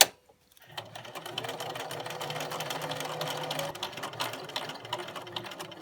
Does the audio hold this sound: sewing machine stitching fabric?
yes